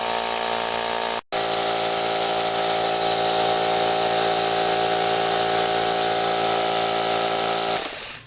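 A Craftsman 3-gallon air compressor runs steadily with a loud, continuous motor-and-pump drone and a tonal hum, broken once by a brief dropout, then tapering near the end.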